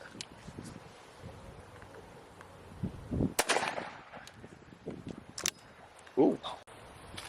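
A .410 gauge Kofs Sceptre over/under shotgun fires outdoors, with two sharp, loud reports about three seconds apart over faint background rustle.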